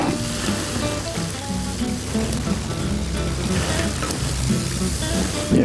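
Turnips fry in hot oil for a Cerdanya-style duck with turnips dish, a dense continuous sizzle and crackle close up, with faint stirring and a voice talking under the frying.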